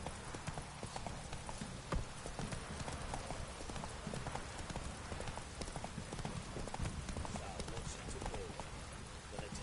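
Hooves of Roach, a horse in a PS4 video game, clip-clop in a steady, continuous rhythm over a dense background wash, with speech-like sound mixed in throughout.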